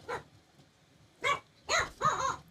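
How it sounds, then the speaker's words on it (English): A little puppy gives four short, sharp barks close by, one early, then a pause, followed by three in quicker succession, the last drawn out into a growly yap. "That's the little puppy."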